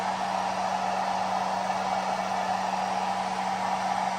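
A hair dryer drawing about 655 W from a portable power station blows steadily with a constant airy roar and a low motor hum, unchanging throughout, no voices.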